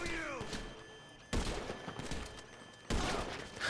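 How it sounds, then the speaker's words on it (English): Sniper rifle fire hits bulletproof glass during a heist in GTA 5: two abrupt, loud shot impacts about a second and a half apart, each followed by a sustained blaring wash of game noise. "Your bulletproof glass has nothing on my sniper rifle. Bang."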